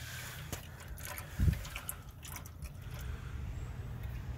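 Fuel drains steadily out of the gas tank of a Mercedes W115, a continuous low liquid trickle and splash that runs the whole time, with one brief louder gurgle early on.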